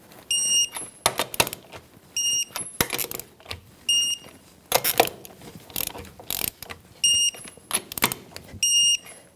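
Clicking torque wrench with a 21mm socket tightening the wheel lug nuts on a 2013-2018 Toyota RAV4 in a star pattern, with repeated bursts of ratcheting clicks and sharp high beeps in separate rounds, fairly close.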